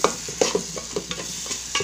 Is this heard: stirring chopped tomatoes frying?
yes